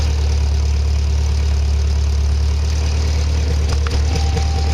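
A Triumph TR3A engine idles steadily and loudly with a deep low rumble while the clutch is tested, with a brief mechanical knock near the end and no talking.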